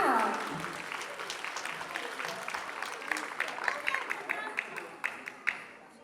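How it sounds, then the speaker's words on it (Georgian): An audience at a stage show breaks into applause, a dense wash of clapping that swells and keeps going, with sharper individual claps standing out toward the end. "ტაშის გარეშე შეიძლება?"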